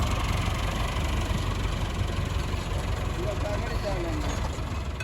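A farm tractor engine runs at a steady, loud idle nearby with a continuous low rumble, and a few faint tonal chirps appear toward the end.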